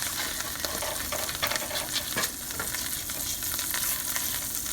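Butter melts in a hot pan with a soft, steady sizzle and faint crackles, quiet and close, with no talking.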